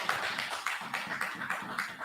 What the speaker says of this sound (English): Yeah, clap it up